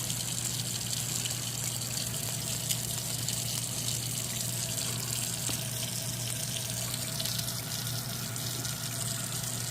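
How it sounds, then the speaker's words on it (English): Water runs steadily from a tap to wet a makeup brush at a sink, a continuous close hiss and splash with a low hum underneath and no voices. "I'm going to wet the brush slightly."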